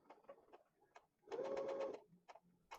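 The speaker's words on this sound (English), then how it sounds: "And so I will start to stitch." Sewing machine stitching the binding on a quilted bench pillow, a steady close whirring burst of about half a second in the middle, framed by small clicks and handling noises.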